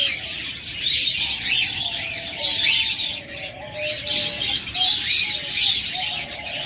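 Pet dove breeding pair sitting on eggs in a cage, with soft repeated chirps and tweets over a steady high chatter of other small cage birds, close and continuous throughout.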